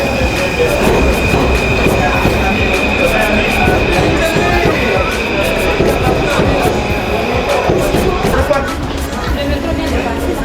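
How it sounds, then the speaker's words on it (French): A metro train passes loudly and continuously in an underground station, with rumbling wheels, rattling cars and a high squealing tone from the rails, and people are heard faintly around it. "On a raté le métro."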